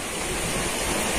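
A hidden waterfall in Baramulla, Kashmir pours steadily, a broad, even rush of falling water filling the short stretch with no voices.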